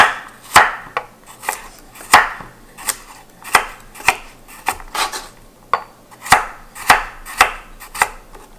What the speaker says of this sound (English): I'm just going to cut kind of thin slices